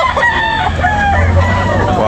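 A kanawayon hatch rooster at a sale crows loudly nearby. One sustained call fills the whole two seconds with no talk over it.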